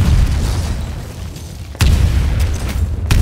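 Thrown grenades exploding in the game Titanfall: a continuous loud rumbling boom, then two sharp close blasts with deep rolling tails, no voices.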